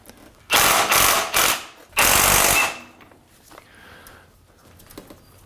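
An impact wrench zips off timing belt bolts on a 2000 Acura Integra in two loud, close bursts, the first stuttering in three pulses and the second steady for about half a second, followed by quiet shop clatter.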